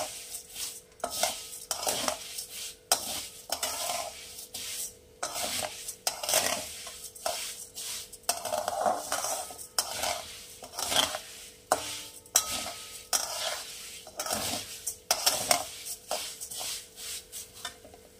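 Dry vermicelli fried and stirred in a pan for butterscotch caramel vermicelli, with a spatula repeatedly scraping and clinking against the metal in an irregular rhythm over a faint sizzle, close and fairly loud, no talking.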